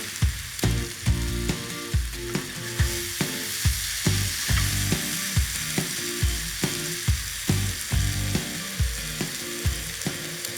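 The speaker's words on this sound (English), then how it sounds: "So I've added the 3 different types of mince. We've let that brown off." Three kinds of mince browning in a pan for a lasagne sauce, giving a steady close sizzle broken by repeated scraping and stirring clicks from a utensil against the pan, with no talking.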